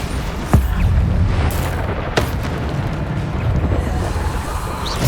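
Bombarda blasting spells from Hogwarts Legacy explode in a Keeper trial, a sharp near burst early and another midway over a continuous loud rumbling din.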